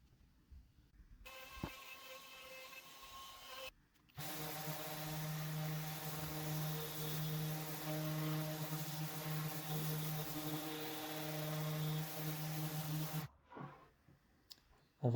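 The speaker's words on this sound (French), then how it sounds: "avec ma défonceuse encore une fois, venir enlever cette épaisseur" Router trimming excess thickness off a live-edge walnut and oak console top, a steady loud whine with strong tonal hum running for about nine seconds, with brief quieter gaps before and after.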